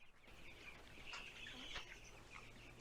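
Chickens on a farm at about three weeks old, clucking and chirping in a steady, busy flock chatter at moderate distance, continuous over low background hum with no talking.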